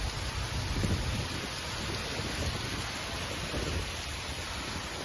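Steady heavy rain pours down during an unseasonal spell in Kheda, Gujarat, a dense continuous hiss with low rumbling undertones throughout and no voices.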